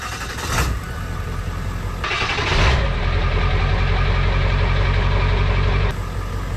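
A 7.3 liter Powerstroke diesel engine in a one-ton four-wheel-drive truck cranks and fires, then settles into a loud, steady clattering idle close by.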